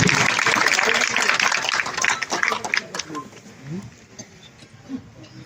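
Applause breaks out for honoured kar sevaks at a BJP city mandal felicitation of 1990 and 1992 Ayodhya volunteers, dense and loud at first, then thinning and fading to scattered claps amid background voices.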